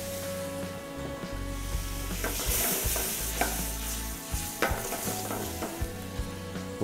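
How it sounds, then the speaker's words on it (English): Veal stock poured into a hot pan for Marsala sauce after the alcohol has cooked off, with a continuous close sizzle, bubbling, and occasional utensil clinks and scrapes. No one speaks. "we're going to add a little veal demi or veal stock"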